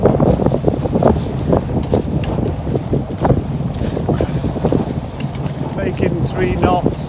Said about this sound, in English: Wind against tide, making for a very choppy sea.